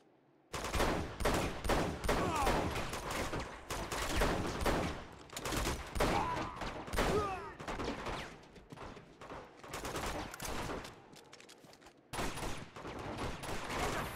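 Sustained bursts of gunfire rattle through a firefight in Uncharted 2, rapid repeated shots with brief pauses between volleys, loud and close, no talking.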